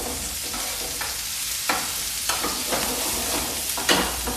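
Shrimp sizzling steadily in a hot pan for a seafood pasta, with a continuous frying hiss and intermittent scraping clacks as they are stirred, fairly close and with no talking.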